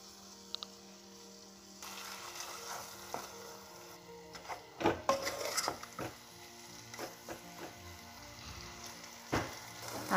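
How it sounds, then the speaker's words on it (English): Tomato puree spooned into a sizzling pan of mutton methi curry, a steady frying hiss with clattering spoon knocks and stirring scrapes against the pan, close and fairly loud, with no talking. "Now I'm adding 3 spoons of tomato puree."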